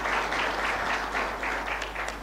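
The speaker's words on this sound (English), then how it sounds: "please one round of applause for Professor Kabula" An audience at a university birthday celebration applauds a speaker. The clapping is dense and even, sustained at moderate loudness throughout.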